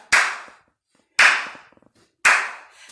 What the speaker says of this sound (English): Everybody, let's clap.